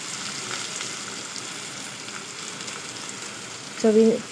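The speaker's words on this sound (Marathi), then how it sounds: "तो पण छान असा खरपूस गुलाबी रंग येईल तोपर्यंत आपण फ्राय करून घेऊया" Long-sliced onion frying over a low gas flame in a pan for egg biryani, a steady soft sizzle running throughout, with a brief clink or scrape near the end.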